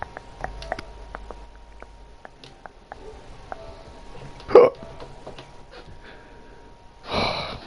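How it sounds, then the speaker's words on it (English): A single sharp hiccup from a man at a microphone, abrupt and fairly loud, with faint clicks and light background noise around it and a brief breathy burst near the end. "Hiccups, man."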